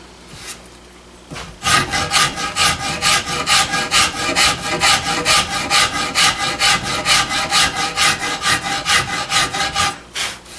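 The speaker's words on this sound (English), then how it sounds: "So now the rasp is making marks that go almost diagonal to it" A rasp works the wood of a gunstock in steady, rhythmic strokes, roughly thirty even rasping passes close up after a brief quiet start, with no talking.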